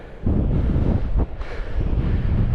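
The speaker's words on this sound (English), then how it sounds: "the wind's picking up already, and it's forecast 40 mile an hour winds" Wind on a coastal hiking trail along the Cleveland Way between Saltburn and Scarborough, buffeting the microphone in loud, uneven rumbling gusts that briefly dip partway through.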